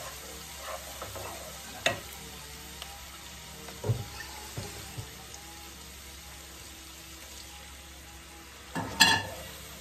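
Onion and spice paste fry quietly in a pan while being worked with a spatula, ahead of hilsa fish and vegetable stalks. A soft, continuous sizzle is broken by scattered scrapes and clacks, with one louder clatter near the end.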